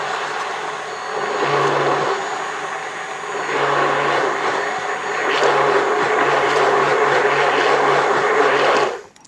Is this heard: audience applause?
no